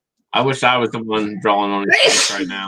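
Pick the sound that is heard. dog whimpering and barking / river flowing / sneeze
sneeze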